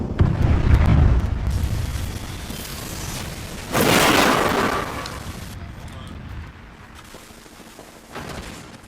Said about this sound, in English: Thermite grenade out.